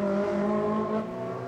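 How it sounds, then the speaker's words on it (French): A Ferrari race car, number 72, runs at the Grand Prix de Trois-Rivières touring car race, a steady, loud engine drone holding its pitch and easing off slightly toward the end. "Ferrari de Mario Guérin, la voiture numéro 72"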